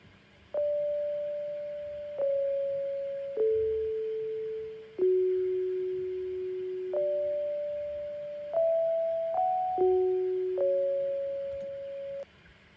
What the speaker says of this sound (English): I introduce this bell lead.